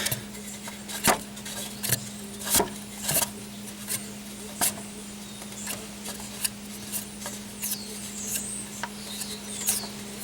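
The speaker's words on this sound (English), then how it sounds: "so now we got the nut loose, so we just have to spin this off" A nut is spun off the alternator fan of a 2002 BMW E46 M3, giving short irregular metallic scrapes and clicks over a steady low hum, close by and without speech.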